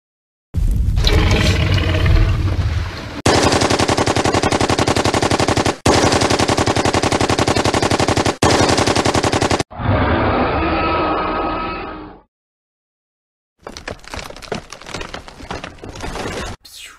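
Rifles blast in long, dense bursts of rapid gunfire at a Tyrannosaurus rex in a time-travel dinosaur audio drama, loud and close, broken by brief gaps and a muffled stretch, ending in scattered shots after a short silence.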